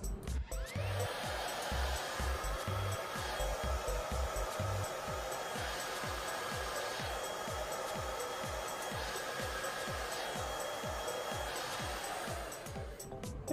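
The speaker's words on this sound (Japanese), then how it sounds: "で、ドライヤーでもう一度軽く乾かします。" A hair dryer blows on hair set with styling spray and clips at the roots in a salon, giving a steady, even whoosh throughout, with a soft rhythmic beat underneath.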